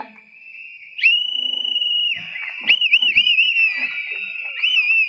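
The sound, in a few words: crowd whistling at a political rally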